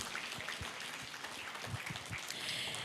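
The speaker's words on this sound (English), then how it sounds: "Please give her a big round of applause." Applause from a conference audience at a corporate forum, steady and moderately faint, with dense broadband patter and a few sharper claps throughout.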